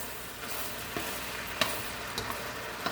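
Steak and other food frying together in a pan for a hibachi-style dinner: a constant close sizzle with occasional pops and a few light stirring clinks.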